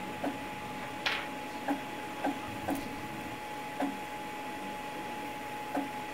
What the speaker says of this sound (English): These are some sounds that the 3D printer is making.